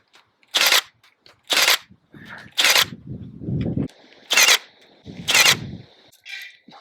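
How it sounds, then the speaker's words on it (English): A Milwaukee M18 18-gauge cordless nail gun fires into pine with about five sharp, loud close-up snaps spaced roughly a second apart, with a softer mechanical whir and rattle between shots. "Easy work for the gun to get through a piece of pine."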